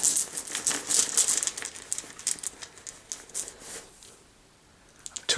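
Quarriors game dice get shuffled in a bag, making a soft, continuous rustle and crinkle with small clicks. The sound comes in uneven bursts, close and fairly quiet, and dips briefly before picking up again.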